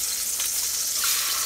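Shrimp fry in a non-stick pan with a bright, steady sizzle, crackling close by with small spits and pops and no talk over it.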